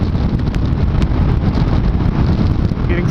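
Loud, continuous wind roar buffets a motorcyclist riding at about 70 mph on a highway, a dense low rumble that fills the mic without letup.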